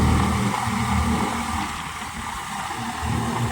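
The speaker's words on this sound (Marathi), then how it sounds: "केव गरकन फिरवतो ट्रॅक्टर पाहिला का मित्रांनो एकदम जोरात" A tractor engine runs hard and fast in a paddy field, a steady loud droning roar that stays close and continuous without letting up.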